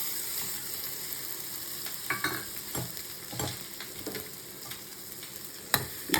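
Raw mango pieces fry in a pan with salt, curry leaves and Kashmiri chilli, a soft continuous sizzle broken by intermittent scrapes and clinks of a spoon against the pan, with no talking.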